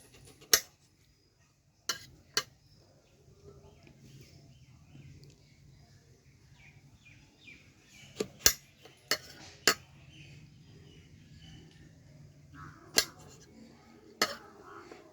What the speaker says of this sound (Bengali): সব সবজিগুলো এইভাবে সাইজ মতো কেটে নেব